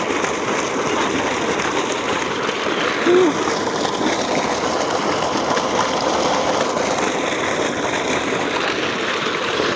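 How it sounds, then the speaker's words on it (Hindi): Water pours from a motor pump outlet into a farm field, a continuous broad rushing splash with a faint engine hum underneath, steady throughout. "यहाँ पर एक जो मोटर है वो उसके साथ पानी दिया जा रहा है और यहाँ से पानी निकलता"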